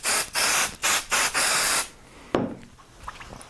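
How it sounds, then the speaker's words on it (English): Spray adhesive hisses in several short bursts onto quilt layers during basting, loud and close, followed by quieter rustling and handling of the fabric. "I can feel it's a little cool where the spray goes on"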